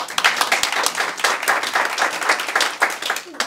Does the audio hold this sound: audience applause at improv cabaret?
yes